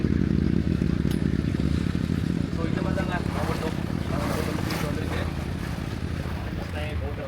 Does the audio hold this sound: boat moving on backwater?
yes